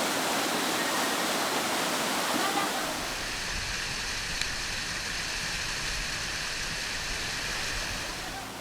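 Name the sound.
river rushing with strong current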